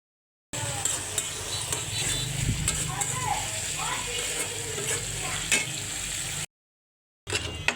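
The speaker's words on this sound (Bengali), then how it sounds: "ধনিয়া পাতা দিয়ে ইলিশ শুটকি ভুনা করছি" Dried hilsa fish stir-fried with coriander leaves in a pan, a steady close sizzle with scraping stirs that stops, then resumes briefly after a short silence.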